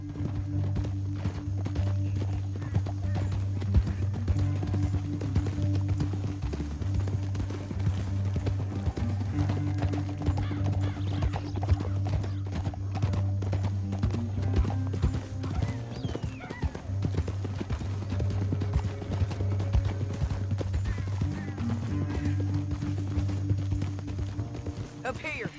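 Horses gallop in Red Dead Redemption 2, with rhythmic hoofbeats that run continuously and loud, an occasional whinny, and a steady low drone underneath throughout.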